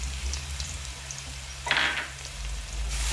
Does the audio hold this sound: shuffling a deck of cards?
no